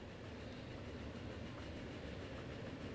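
Steady rumble of a train rolling along track in the Transport Fever simulation game, a continuous low clatter with faint wheel clicks, sustained and even throughout with no voices.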